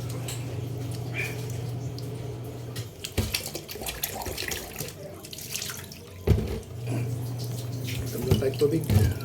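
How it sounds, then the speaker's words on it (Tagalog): Tap water pours loudly into a sink and splashes in bursts, with brief pauses and short clattering sounds in between. A voice murmurs faintly in the background. "Tubig."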